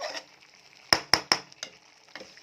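Spiced potato curry sautés in a pan: a low, close sizzle broken by three quick, loud clanks of a spatula against the pan, then a few softer taps.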